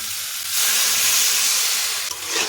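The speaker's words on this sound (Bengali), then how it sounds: "এখন এখানে দেড়শো এমএল মতো জল দিচ্ছি" Water poured into a pan of frying green chillies, a sudden loud steamy hiss and sizzle that holds steady for a couple of seconds, close and without talk.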